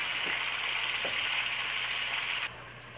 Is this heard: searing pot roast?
yes